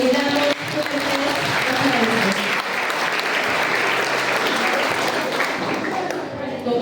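Sustained, loud applause from an audience at a school essay and speech contest, greeting a jury member as she is introduced, steady clapping with some crowd noise throughout.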